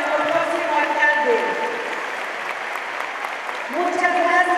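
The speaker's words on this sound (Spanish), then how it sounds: "Un aplauso fuerte para nuestro próximo alcalde." Applause breaks out for the next mayor at a women's breakfast gathering, a crowd clapping steadily throughout with voices calling out over it.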